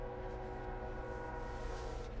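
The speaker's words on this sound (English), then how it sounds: "I kind of actually hear the train that's going right by my house right now." A train runs past a house close by, a steady low rumbling drone with sustained horn-like tones, continuous and moderately faint throughout.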